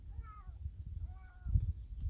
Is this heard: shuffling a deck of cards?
no